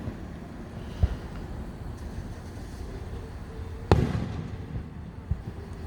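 Fireworks bursting outdoors in the fall, with two sharp booms about three seconds apart, the second louder with a crackling tail, over steady wind and distant background rumble.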